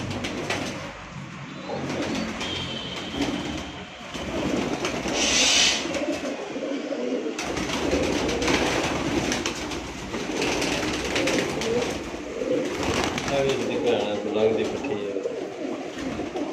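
Pigeons coo repeatedly on a rooftop, close and clear, over a steady outdoor background, with someone talking at times alongside the birds.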